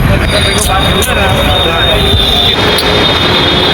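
A loud train rumbles close by, with metallic wheel screeches and a steady mechanical roar; speech seems buried faintly in the din.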